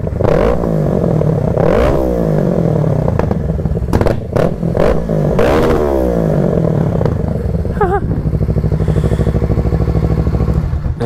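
A 2020 Kawasaki Z650 motorcycle engine revs loudly and close, with repeated rising and falling throttle blips over a steady idle, ending in a fast, even putter.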